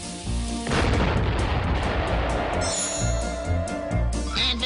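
Cartoon-style explosion effect for an exploding cake in a 1970s-style animated sitcom parody: a loud booming burst that hits suddenly and rumbles on with dense crackling noise, alone without talk.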